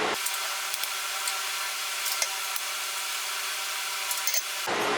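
Three eggs being beaten for a carrot and dates cake, a steady whirring mixer drone that runs evenly for nearly five seconds before cutting off abruptly.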